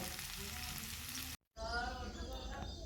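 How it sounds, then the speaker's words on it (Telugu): Chicken fry sizzling steadily in a pan, a loud continuous frying hiss close up, broken by a brief silent gap, then returning with a stirring scrape under it. "మొత్తం చికెన్ ఫ్రై బాగా బాయిల్ అయిపోయింది"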